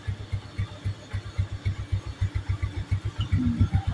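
A Motorstar motorcycle engine with a converted 155 pulley setup runs in a steady, low, throbbing pulse, close and even, with a small voice near the end.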